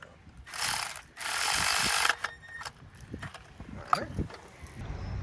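A ratchet tightens spark plugs on a 2012-2018 Ford Focus, sounding as close bursts of rapid clicking followed by sparse metallic taps and small knocks.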